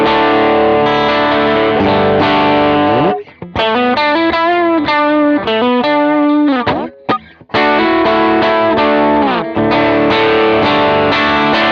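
Distorted electric guitar through a Morning Glory overdrive pedal plays loud, sustained overdriven chords and riffs with brief gaps and a few quick single-note runs, no voices.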